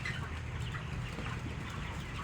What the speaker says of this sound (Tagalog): Yan ang mga manok guys.